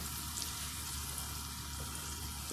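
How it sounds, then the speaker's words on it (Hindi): Keema frying in a pan for keema korma, a steady, even sizzle that holds at one level throughout without breaks, alone and moderately close. "अभी इसको थोड़ा सा होने दो फ्राई"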